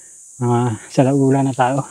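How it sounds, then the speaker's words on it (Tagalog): Crickets chirp by a river as a steady high continuous trill, held under a voice talking close by. "Narinig niyo yung huni ng mga kuliglig"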